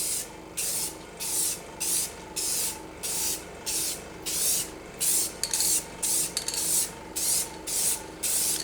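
Repeated bursts of hissing aerosol clear coat spray on a headlight, each lasting about half a second, in a steady rhythm with brief pauses, close and fairly loud.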